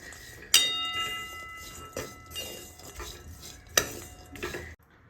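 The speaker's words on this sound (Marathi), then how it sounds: "आणि आता तुम्हाला जेव्हा आपण गूळ कढईमध्ये टाकतो तेव्हा आपल्याला बाजूला जाऊन चालणार नाही आणि कंटिन्युअस ह्या गुळाला आपल्याला हलवत राहायचंय" Jaggery being stirred continuously in a metal kadhai for til vadi, with spoon scrapes and sharp clinks against the pan at an irregular pace, close and moderately loud, fading out at the end.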